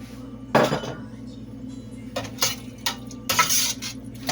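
A spoon scrapes and clatters against a metal saucepan in short bursts while stirring carrots and cauliflower, with clinks of utensils and a low background hum.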